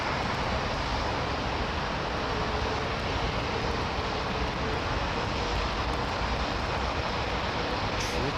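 A jet aircraft landing on runway 27L at London Heathrow during easterly operations, a loud steady broadband engine roar holding level throughout, heard from nearby with no voices.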